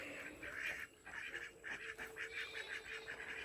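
Farm ducks, about eight birds, calling repeatedly in short honking quacks that overlap in an irregular rhythm, fairly faint and from a moderate distance with no talk.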